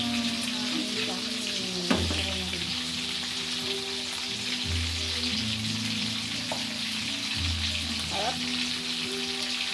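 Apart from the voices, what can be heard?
frying fresh fish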